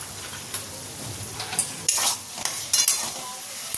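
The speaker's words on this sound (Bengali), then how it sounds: "চলো মশলাগুলোকে সব মিশিয়ে নিই।" A spoon stirs pasta seasoning, tomato sauce, soy sauce and black pepper together in a hot pan, scraping and clinking against the metal over a steady sizzle, with sharper bursts of scraping mixed in.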